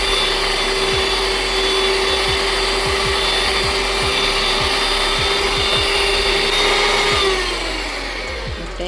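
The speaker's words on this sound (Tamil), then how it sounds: "முட்டையை நல்லா அடிக்கணும். அப்போ தான் கேக் சாஃப்டாக வரும்." An electric mixer beats eggs for a chocolate plum cake, a loud continuous motor whir close by with repeated clacks of the beaters against the bowl, and the pitch drops near the end as it slows.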